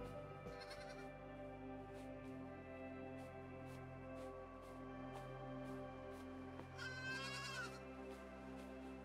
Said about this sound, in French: Ici, il y a plein de moutons.